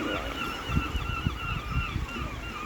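Geese honk repeatedly at a sunny beach by the sea, a series of close, loud calls in quick irregular bursts over steady background noise.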